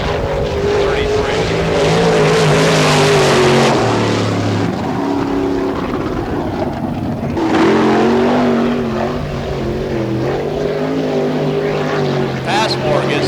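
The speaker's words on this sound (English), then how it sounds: "Passmore gets the 11A wound up a little bit as he heads down the back straightaway" Sprint race car engine at Barberville, Florida, revs hard down the back straightaway of a dirt oval, a loud continuous snarling drone that rises and falls under a commentator's voice.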